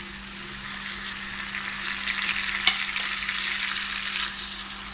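Onions, 3 to 4 tomatoes, ginger and garlic sizzle steadily in a hot pan, close and moderately loud, with a faint constant hum underneath and one brief click midway.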